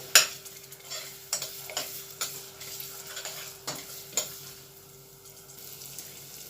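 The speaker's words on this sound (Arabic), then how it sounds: "بعد كده ما حمرت البصل والتوابل مع بعض كده" Onions, peppers and spices are stirred in a pan while frying, with a soft sizzle throughout and sharp scraping strokes of a spoon at irregular intervals, close up and with no talking.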